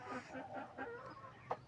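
Hens clucking softly at their evening feed, a short run of faint, rhythmic clucks heard at a distance with one brief sharper note near the end.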